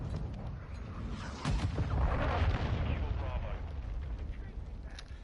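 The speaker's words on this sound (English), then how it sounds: "Cruise missile" A cruise missile strike in Call of Duty Modern Warfare lands as a heavy, rumbling blast that swells and rolls on for several seconds over low battlefield noise, with players talking over it.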